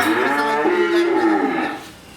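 A Holstein Friesian heifer, one of a pair, gives a single long, loud, close moo that rises and then fades, with quiet background afterward and no talking.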